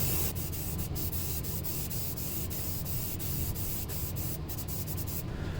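A spray can lays a final coat of paint on engine intake parts for a Pontiac Fiero fuel system rebuild, producing a loud, steady hiss close by, broken by brief pauses and faint ticks.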